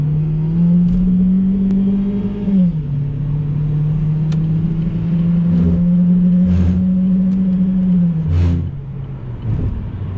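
An Opel Astra J with a 1.4 turbo engine and automatic gearbox pulls uphill, its steady engine drone rising and dipping with gear changes, close and continuous with faint road noise.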